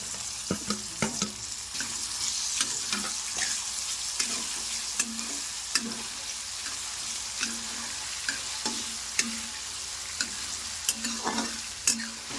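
Potato, onion and tomato sautéing in two spoons of oil, a constant close sizzle punctuated by regular scraping strokes and clicks of a spatula against the pan.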